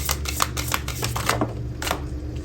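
Tarot cards riffle and slap in a series of close, crisp shuffling bursts, with cards snapped out of the deck one after another.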